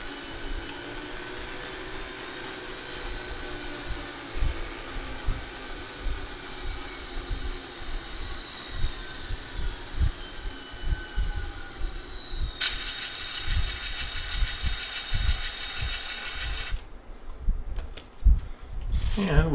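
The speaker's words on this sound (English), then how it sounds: "crank up the RPMs, let the wheels clean themselves on this track." A model train locomotive run at high RPM so its wheels clean on the track: a continuous whirring motor whine with a rising and falling tone under rattly rumble, close up, ending with a sudden change and handling clatter.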